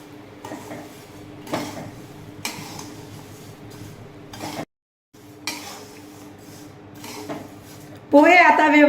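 Poha being stirred in a pan on a gas stove: steady scraping and clinking of a spoon against metal, with a short pause midway, then a louder clattering burst at the end.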